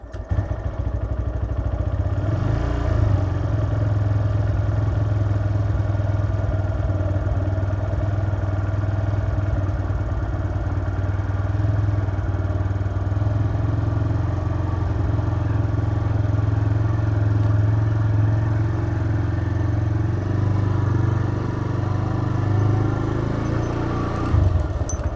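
A motorcycle engine runs steadily while someone learns to ride, a low continuous close rumble with no pauses.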